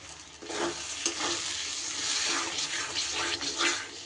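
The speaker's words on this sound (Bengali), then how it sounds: "দইটাও খুব ভালো করে মিশিয়ে দেব" Beaten sour yogurt being stirred into masala frying in oil for mutton curry, a steady close sizzle with scraping spoon strokes throughout, no talking.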